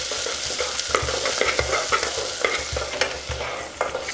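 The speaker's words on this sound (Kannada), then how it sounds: "ಚೆನ್ನಾಗಿ ಬಾಡಿಸ್ಕೋಬೇಕು. ಅಂದರೆ ಇದು ಈರುಳ್ಳಿ ಸ್ವಲ್ಪ ಬ್ರೌನ್ ಕಲರ್ ಬರಬೇಕು." Chopped onions sauté and sizzle in a pan for spicy dhaba-style kuska while a spoon stirs them, leaving repeated scraping knocks over a steady frying crackle, close and loud with no voices.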